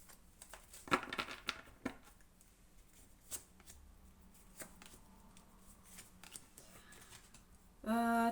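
A quick clatter of small hard objects tumbling onto a surface, then a few lighter taps in a quiet room.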